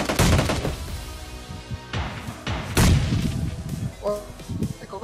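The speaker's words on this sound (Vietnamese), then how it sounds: "có cái thằng nào bắn shotgun nữa." Shotgun blasts in the mobile game PUBG Mobile come as several heavy booming shots with thuds and crashes in irregular bursts, mixed with game sounds and some talk.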